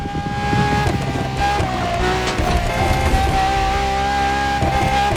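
A Ferrari LaFerrari hybrid drives in the racing game The Crew Motorfest, its engine holding a loud, steady high-pitched drone with slight pitch shifts and brief tire noise.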